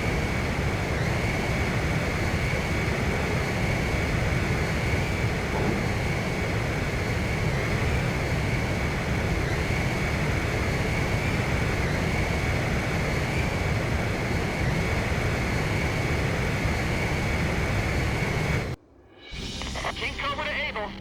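A jet aircraft in the Ace Combat 5 video game, flying steadily during aerial refueling, gives off a loud, continuous engine roar that holds evenly for most of the clip before cutting off abruptly near the end.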